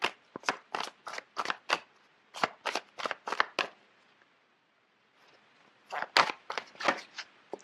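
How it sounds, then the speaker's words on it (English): Tarot cards riffled and handled in quick bursts of crisp flicks, a pause, then another run of shuffling as a card is drawn, close up with no voice. "So let me just pull out a card."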